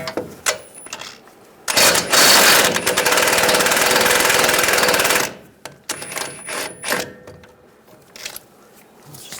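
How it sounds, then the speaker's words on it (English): A steering knuckle nut on a Ram 1500 being loosened, heard as a loud rapid mechanical rattling burst lasting a few seconds, bracketed by close clicks and metallic clanks of tools. "You're going to loosen this nut up."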